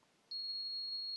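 An ignition timing tool for an OS 160 engine on an ASP Magnum SC sets off its buzzer, a single steady high-pitched electronic tone that starts abruptly and holds for about a second, close and clear in a quiet room.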